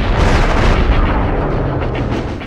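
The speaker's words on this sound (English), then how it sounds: "there's been so many explosions" Dense, loud explosions and heavy booming gunfire from the video game Future Cop LAPD roar continuously, a thick rumbling barrage with no clear pauses and no voices.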